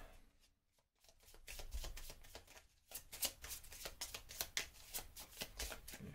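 A deck of Marvel Champions cards being shuffled by hand at close range, with rapid riffling bursts, a brief pause, then a longer run of dense, rhythmic card flutters.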